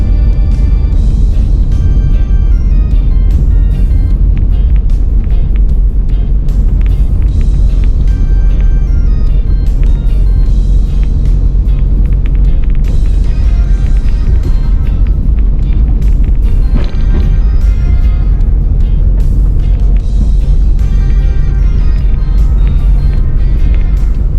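A car descends a steep hill on Pen Hill in Manchester, Jamaica, in low gear, its engine and road noise a loud, steady drone that continues without a break from start to end.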